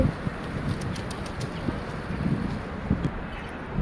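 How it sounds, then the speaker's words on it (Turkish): Wild pigeons coo softly in low repeated calls over a steady outdoor hiss, with occasional light flutters. "Şöyle kuşlar geldi."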